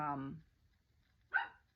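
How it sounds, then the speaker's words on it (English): A dog lets out a single short, sharp bark nearby just after a brief vocal sound, with quiet around them. "if you hear barking, it's my dogs watching me."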